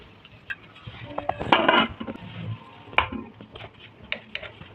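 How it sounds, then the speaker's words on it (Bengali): A knife cuts kneaded dough into portions for green-pea kachori, giving close, scattered soft taps and scrapes on a hard surface, with a denser clattering burst partway through. "রুটি কেটে নেবো।"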